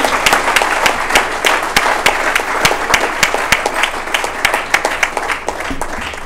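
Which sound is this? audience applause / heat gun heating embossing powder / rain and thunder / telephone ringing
audience applause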